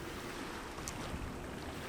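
A sailboat heads up the river into Dartmouth, a steady wash of water and wind rushing past the hull, even and moderately loud throughout, with no voices.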